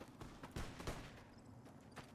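Gunfire in the video game Fallout: New Vegas: a few muffled, distant-sounding shots in quick irregular succession over a low background hum, with no talking.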